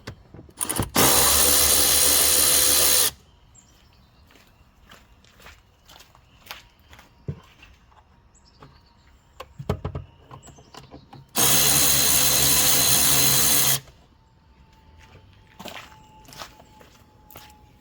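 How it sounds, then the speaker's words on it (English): A power driver loosens the band clamps on a Jeep Grand Cherokee air silencer: two loud steady whirring runs of about two seconds each, with light clanks and handling noises in between. "So we're just going to go ahead and remove these band clamps."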